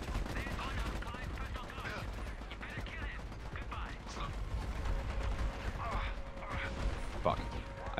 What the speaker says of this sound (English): they're all firing at me